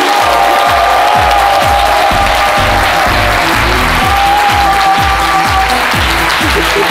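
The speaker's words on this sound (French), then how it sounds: "que je vous demande d'applaudir." A studio audience on a French-language TV talk show applauds a guest with loud, sustained clapping and some cheering, over a rhythmic thumping music beat.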